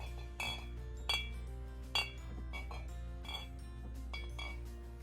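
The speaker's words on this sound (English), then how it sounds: "take a paper towel with some vinegar on it and wipe off the rims and check for cracks" Glass canning jars clink sharply against each other as their rims are wiped with a vinegar-dampened paper towel after filling with beef bone broth, giving several distinct, bright taps over a low steady hum.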